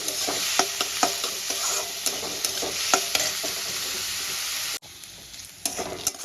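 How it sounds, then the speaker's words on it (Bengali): Chopped onion frying in a pan over tempering spices while preparing a Bengali begun bharta with fish heads: a loud, steady sizzle with scattered stirring clicks, briefly dipping near the end before resuming. "পেঁয়াজটা আমি সুন্দর করে ভেজে নেব।"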